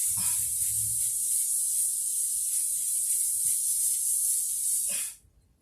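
A single long, steady blast of hairspray hisses close up for about five seconds, then cuts off.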